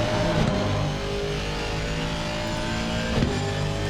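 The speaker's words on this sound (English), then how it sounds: "Just love the sound of that car." A GT3 race car's engine drones steadily in Assetto Corsa Competizione during a championship race at Watkins Glen, a continuous tonal buzz with brief revving swells, heard alone.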